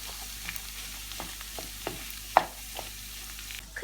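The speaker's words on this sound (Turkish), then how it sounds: "Şimdi içerisine 250 gram kıymamızı ilave edip kıymamızı da kavuralım." Minced meat sizzles and fries in a pan with a steady crackle, punctuated by scraping stirs of a utensil; no voices.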